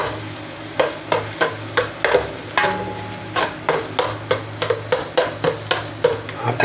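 Garlic sizzles steadily in hot oil for pancit while a utensil scrapes and stirs the pan in a regular rhythm of roughly one stroke every half second, loud and close with no talk.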